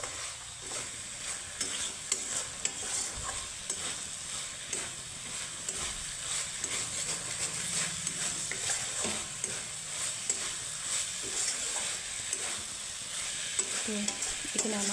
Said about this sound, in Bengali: ভাজা ভাজা করে নিয়েছি।